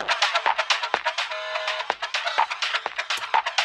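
Lossy guitar pedal effect imitating old MP3 compression, run on music: choppy, smeared tones with warbling artifacts, pulsing hits and a brief sustained note in the middle, heard up close and alone.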